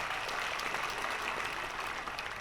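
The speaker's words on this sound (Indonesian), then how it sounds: "Tepuk tangan Bapak Ibu sekalian." Steady, dense applause from the audience at the closing ceremony of the Bali Arts Festival, a continuous wash of many hands clapping at moderate distance throughout, with no talk over it.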